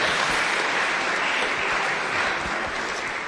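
An audience claps in sustained, dense applause at an Italian event about the Constitution, loud and even for a few seconds and then tapering slightly.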